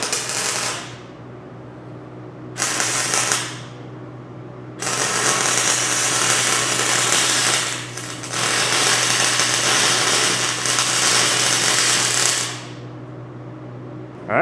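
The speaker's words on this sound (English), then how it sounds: "We're gonna just weld these spots shut" Welding spots shut on worn crane tracks produces loud, crackling bursts of arc noise lasting several seconds each, separated by short pauses over a steady low machine hum, close and harsh, with no talking.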